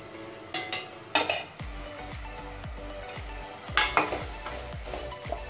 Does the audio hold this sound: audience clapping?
no